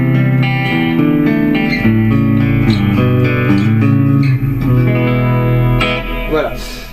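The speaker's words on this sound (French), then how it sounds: "Je vais laisser la reverb hein, parce que j'aime bien avoir la reverb tout le temps enclenchée" An electric guitar plays a steady run of notes and chords through a reverb effect pedal, so each note rings out with a washy tail. It is fairly loud and close, with no talking over it.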